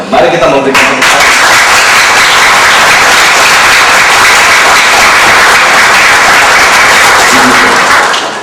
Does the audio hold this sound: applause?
yes